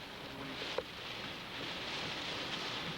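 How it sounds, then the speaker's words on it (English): Steady rain from Hurricane Bob in Mattapoisett, Massachusetts, 1991, hisses down in a dense, even wash, with a faint knock partway through and no voices. "can hear the rain pelting the crew"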